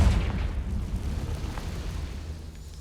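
Booming magical blasts from Confringo spells in the video game Hogwarts Legacy, a loud, sustained rumble of low explosions with no speech over it.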